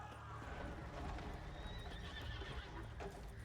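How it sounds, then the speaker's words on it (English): Horse hooves clip-clopping at a gallop in The Witcher 3 game, a steady rapid rhythm with an occasional whinny over dense ambient game noise, loud throughout. "There goes a horse."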